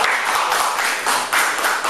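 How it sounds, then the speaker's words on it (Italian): An audience at an event presentation breaks into brief, dense applause, many hands clapping steadily and fairly close, with no speech over it. "un applauso per la sua presenza"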